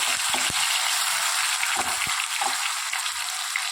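Green chillies, tomatoes and garlic sizzle steadily in hot oil in a pressure cooker for khichdi, a loud continuous frying hiss with a few clinks of a spoon against the pot.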